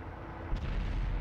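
Tank cannon firing in a tank video game, a single booming shot landing midway through over a low continuous rumble of battle ambience, with no talk.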